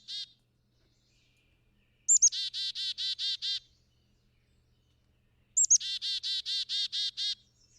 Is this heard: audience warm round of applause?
no